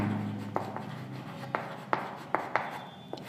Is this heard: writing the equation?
yes